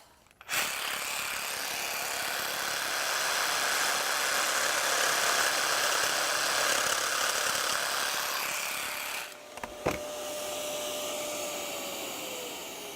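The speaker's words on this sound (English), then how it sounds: "using our jigsaw, we just cut this out" A jigsaw cuts along a marked line on a wooden slat for a wine caddy, a loud steady motor buzz running for about nine seconds, pausing briefly, then a short quieter burst as the blade finishes the cut.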